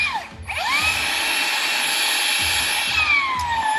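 A VB3616DA rebar bender-cutter runs and cuts 10 mm steel rebar. It gives a loud, steady mechanical whine with a rising pitch at the start, continuous for nearly four seconds, with no talk over it.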